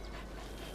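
A dog in the video game Metal Gear Solid V: The Phantom Pain pants in a quick, soft, breathy rhythm, close and faint, over a brief moment with no talking.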